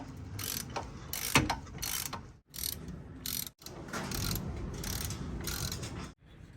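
A ratchet clicks away as nuts come off the axle of a Jeep WJ, in rapid bursts of metallic pawl chatter broken by short pauses, close and fairly quiet.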